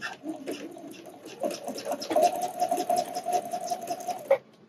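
A sewing machine stitches over a bulky seam on a wireless bra, with a hump jumper under the foot: a rapid, steady mechanical whir and patter that starts up, holds at close range, then stops abruptly.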